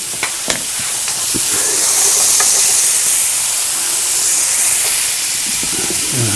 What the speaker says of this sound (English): Throw my green onions and peppers in there.